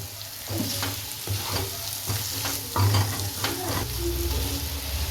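Ghee chicken roast gravy, cooked down until nearly dry, is stirred in a hot pan: repeated scraping strokes of a spoon over a constant low sizzle, with a few heavier pushes standing out.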